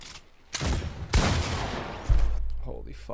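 Revolver fire in Fortnite sounds as a few heavy, close shots among game noise, while someone talks over them.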